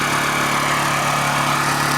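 A Honda EU2000i inverter generator runs close up at its exhaust outlet, a loud steady droning hum with a constant low pitch and no variation across the short stretch.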